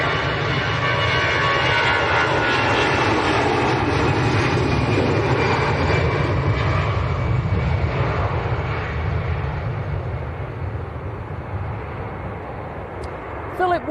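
An EasyJet airliner departing Manchester Airport for Geneva gives a loud, sustained jet engine roar that holds steady throughout, then eases slightly toward the end.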